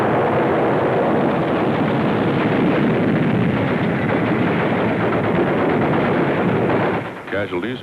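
Heavy, continuous gunfire from a 1943 Battle of Tarawa newsreel fills the whole stretch at a loud, dense level, then drops away near the end, where a voice takes over.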